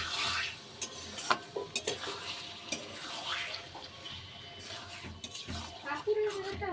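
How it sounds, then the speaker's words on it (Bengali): Fish pieces stirred through spice masala in a pan, giving scraping, shuffling strokes with occasional clinks over a steady sizzle, fairly close. "মাছগুলো দিয়ে আমি এখন একটু নাড়াচাড়া করব"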